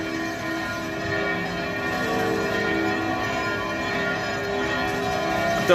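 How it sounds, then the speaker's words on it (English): Church bells ring in Catania, Sicily, a sustained layered peal of overlapping tones that hangs steadily in the air at moderate distance, with no talk over it. "listening to these bells, it just gives you that feel-good factor"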